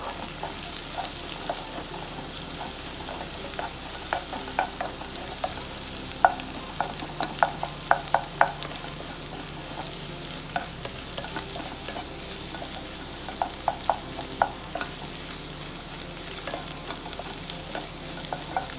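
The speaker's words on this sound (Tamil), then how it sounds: "மிக்ஸ் பண்ணி விட்டுக்கிட்டே இருங்க." Eggs sizzle steadily in a pan while being stirred for chicken fried rice, with frequent close clicks and scrapes of a utensil against the pan throughout, and no talking.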